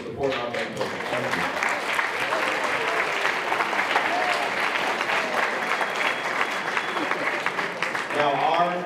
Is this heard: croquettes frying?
no